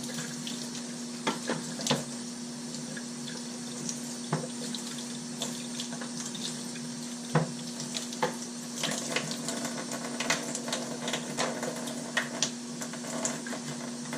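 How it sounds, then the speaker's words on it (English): Tap water running and splashing over the filter baskets of a Fluval 406 canister aquarium filter as they are rinsed in a sink, a constant gush broken by irregular knocks and clatters, no talking. "And just rinse out all your baskets."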